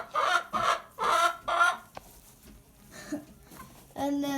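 Chickens on a farm cluck in several loud bursts close by, with quieter clucks and calls after a short pause.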